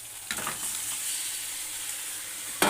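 Marinated chicken going into a pan of fried spice masala with green chillies, a steady sizzle that swells into a sharper hiss as the meat lands, with no voices.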